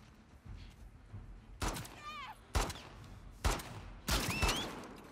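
Gunfire in the video game The Last of Us Part 2: four loud, sharp bursts of shots at roughly one-second intervals, with brief shouted voices between them over a quiet background.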